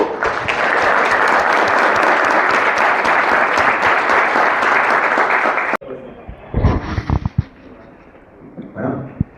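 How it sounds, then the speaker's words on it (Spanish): Loud, dense applause from the audience at a legal and tax seminar for the doctor introduced on stage, sustained for nearly six seconds and then cut off abruptly, followed by someone speaking. "Damos por favor un fuerte aplauso al doctor Oscar"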